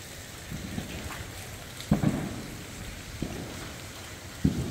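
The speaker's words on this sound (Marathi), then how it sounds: "पाऊस वगैरे खतरनाक चालू आहे, थोडा कमी झाला आता" Rain pouring steadily during a Diwali evening, a constant wash of drops with a few heavier splashes and thuds, fairly close and without talk.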